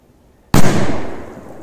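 A sudden loud bang from a large firecracker exploding under a bowl, followed by a long rumbling, hissing decay after a moment of quiet.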